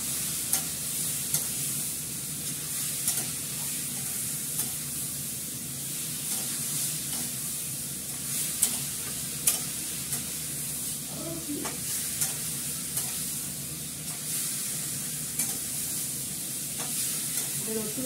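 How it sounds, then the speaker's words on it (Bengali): Masala with coriander leaves stirred and sautéed in a pan, a steady close sizzle with scraping stir strokes and occasional clinks, no talking. "ভালো করে কষাবো"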